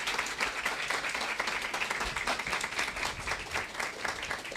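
Applause from an audience in a hall during a Brazilian diversity week talk on gender equity, many hands clapping in a steady, moderately distant patter throughout.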